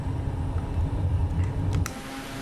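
Small bush plane taking off in Microsoft Flight Simulator 2024, a steady loud engine roar and rumble holding throughout, close and continuous with no talk.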